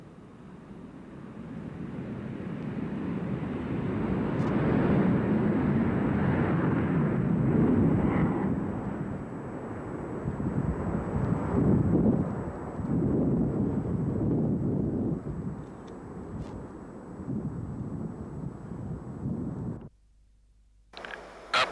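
An F-15 Eagle jet takes off in a video game with a loud, sustained roar that swells and fluctuates for around twenty seconds before cutting off abruptly.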